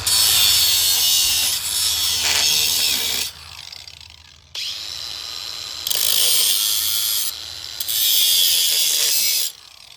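A grinding wheel slicing into a wooden post set in a concrete footer, cutting one slice after another around it. Loud, harsh, high-pitched abrasive bursts of a few seconds each are separated by short quieter gaps as the cut stops and restarts.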